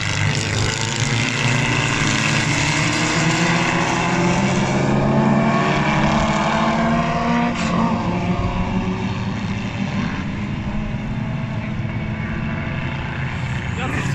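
Single-seater race cars lapping the Magny-Cours circuit, a continuous loud engine roar with rising and falling passes heard from the spectator area, while people talk over it.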